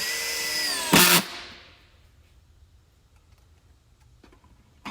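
A power drill whines steadily, then bursts into a loud, brief grinding as it drives a screw and stops, followed by faint clicks in quiet.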